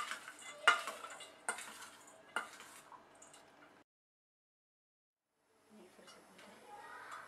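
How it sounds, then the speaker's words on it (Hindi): A spoon stirs soaked sabudana mixed with coarsely ground peanuts, giving a few soft scraping strokes and light clinks. The stirring is moderately close, with a quiet pause partway through. "अब हम इसको अच्छे से चम्मच से मिक्स कर देंगे।"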